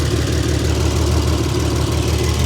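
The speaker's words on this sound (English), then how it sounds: "The exhaust tone of this thing is insane." Exhaust of a 3.6L VR6 with long tube headers on an all-wheel-drive VW GTI, a loud, close, steady idle rumble with a throbbing low pulse and no talk.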